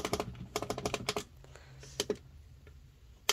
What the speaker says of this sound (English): I'm clicking the plus right here.